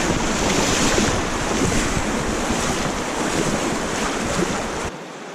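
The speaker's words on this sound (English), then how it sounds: "These are like raging rapids." River rapids in The Narrows of Zion National Park rush loud and close in a dense, continuous roar, buffeted by wind on the mic, before cutting off abruptly at the end.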